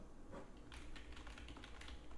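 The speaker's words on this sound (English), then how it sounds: "are you talking about when I'm typing?" Someone types on a computer keyboard, giving a faint, steady patter of small clicks over a quiet background hiss, with no talking.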